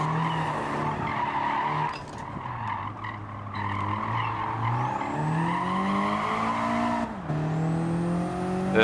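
Car braking in a Gran Turismo 7 time trial on the Eiger Nordwand track, with a continuous engine drone shifting pitch and long tire squeals as the car slows into corners, loud and steady without talk.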